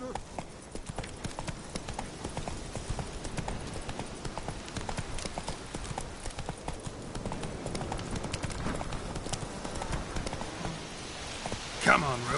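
Horse hooves clip-clopping at a walk in The Witcher 3 video game, a steady rhythmic patter of moderate loudness that continues throughout, with game ambience and a voice present in the scene.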